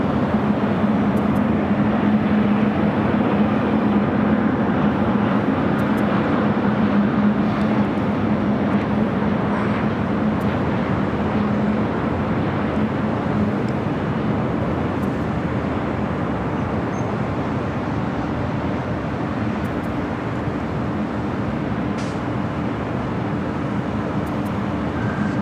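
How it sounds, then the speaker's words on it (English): Heavy Air France jet rolling for takeoff on runway 24L at Los Angeles International, a steady broad engine roar with a low hum that holds at a constant distant level for the whole stretch, no voices. "Air France 23 kilo heavy, RNAV Del Rey, runway 24 left, clear for takeoff"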